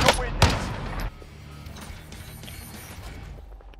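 Two loud, close gunshots in a battle royale video game in quick succession, then a quieter stretch of distant game noise, with a player talking over it.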